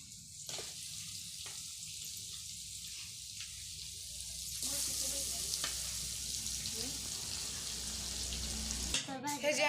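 Fish frying in a large kadhai, a soft sizzle that swells into a louder, fuller crackle partway through, with faint clatter and a brief louder clash near the end.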